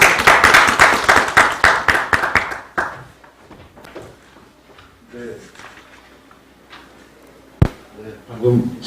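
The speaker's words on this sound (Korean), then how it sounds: "큰 박수 부탁드리겠습니다" Brief round of audience applause for a presenter at a Korean agriculture and food policy forum, fairly loud clapping lasting under three seconds, then fading into a quiet room with shuffling and a few thumps.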